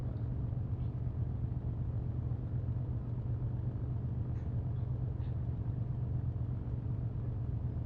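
Complex turbocharged propeller aircraft taxiing in a flight simulator game, a steady low engine drone with constant rumble and no change in pitch, no talking.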